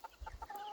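Black sex link hens clucking in a brief burst, several short soft clucks in quick succession close by, with no talk.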